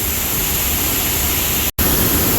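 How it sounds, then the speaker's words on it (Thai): Waterfall on the Lam Huai Truat stream, two separate falls, a loud, close, steady broadband roar with one very brief dropout. "อันนี้ก็จะเป็น น้ำตกจากสายลำห้วยตรวจนะครับ มีสองเส้น"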